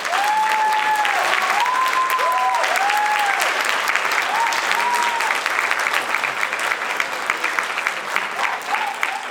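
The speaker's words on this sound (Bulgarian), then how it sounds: "Дами и господа, моля за вашите аплодисменти за основателя на фондация Творчески ренесанс" An audience claps loudly for the founder of the Creative Renaissance Foundation, Nikolay Traykov, at the Creator of the Year 2025 ceremony. The applause is dense and sustained throughout, with tonal music or whistling riding over the top.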